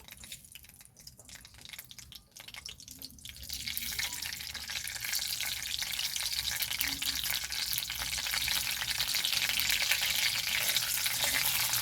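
Bay leaves, whole mustard seeds and dry red chillies sizzle in mustard oil in a kadai, a steady bright frying hiss that swells louder after a few quiet seconds, close and continuous with no talk.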